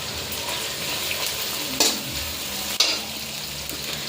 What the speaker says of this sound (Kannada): ಹಸಿಮೆಣಸಿನ್ಕಾಯಿ ಕಟ್ ಮಾಡ್ಕೊಂಡು ಹಾಕೊಳ್ಳೋಣ. ಫ್ರೈ ಆದಮೇಲೆ